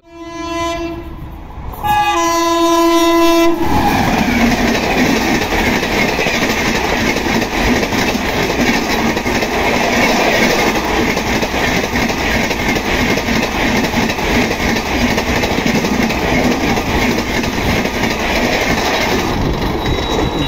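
The Jharkhand Swarna Jayanti Express blasts a loud two-tone horn and then thunders past at close range, a sustained roaring rush of wheels and rail clatter filling the rest.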